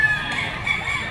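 P-comb stag gamefowl rooster at a backyard breeder, a brief close clucking call with crowing-like tone over steady farmyard background.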